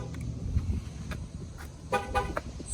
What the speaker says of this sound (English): Do this, it'll honk twice and we'll be done.